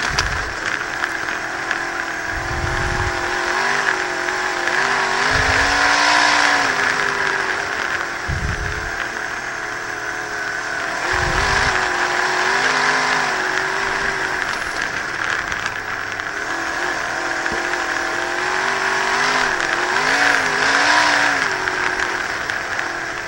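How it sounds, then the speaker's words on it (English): Race cars circling a track at a New England racing event, engines droning steadily at a distance with several louder passes rising and fading, mixed with broad crowd and ambient noise. "I think that blue car on the left, number 8, is Kevin Chafee"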